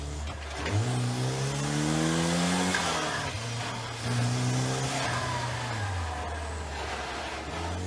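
A race car accelerates hard down a track's back straight, its engine note climbing through revs, easing off briefly as it shifts, then climbing again; the sound is loud and close, with no talking.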